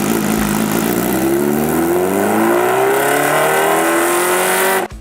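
A supercharged Kawasaki H2R track-only motorcycle with a 998cc inline four-cylinder engine, revving loud and close in one long continuous rise in pitch before cutting off abruptly at the end.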